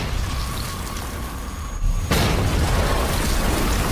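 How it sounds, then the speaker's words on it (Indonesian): Car bomb explosion in a film: a sudden loud blast about two seconds in, followed by a sustained roaring, crackling rumble of debris and fire. "Ketika pria ini menghidupkan mobilnya dan terjadilah ledakan bom"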